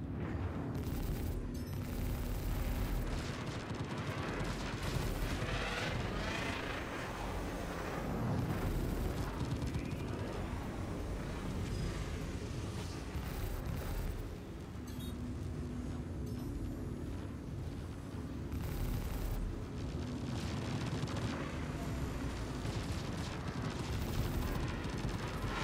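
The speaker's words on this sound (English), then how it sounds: "Oh my god, look at all those missiles." Missile barrage in a team-fight video game: a dense, sustained roar of overlapping explosions and booms, loud and continuous with rolling surges and no clear pauses.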